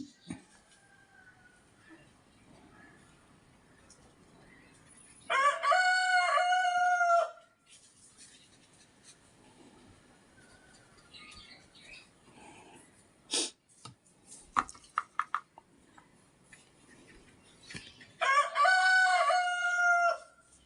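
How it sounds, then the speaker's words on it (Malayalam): A rooster crows twice, loud and close, with a long pause between calls filled by faint background noise and a few sharp knocks. "കോഴി കൂവി"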